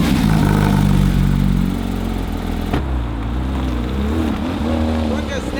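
A Porsche 992 GT3 RS Tribute Edition engine runs loud and close, with a high rev that settles into a rough, steady idle. A voice talks over it.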